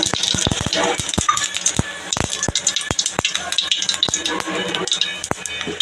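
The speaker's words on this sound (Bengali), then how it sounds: "এই দেখো কড়াইতে তেল দিয়ে দিয়েছি সর্ষের তেল দেবো হচ্ছে জিরে ফোড়ন এই যে জিরে ফোড়ন দেবো বাঁধাকপিটা বসাবো জিরে ফোড়ন দিয়ে দিলাম" Cumin seeds crackling in hot mustard oil in a wok as cabbage goes in, with dense bright sizzle and a run of sharp clicks and pops, like spoons or seeds striking the pan, recorded close.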